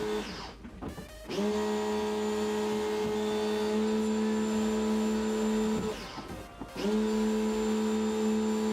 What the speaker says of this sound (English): After some pressure washing, the tank comes out pretty clean